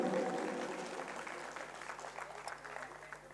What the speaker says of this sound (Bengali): একটা জোরে হাততালি হোক দুজনের জন্যই।